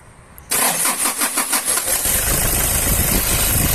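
A car engine cranks and catches after a quiet lead-in, with a few rhythmic pulses before settling into a loud, steady idle close by.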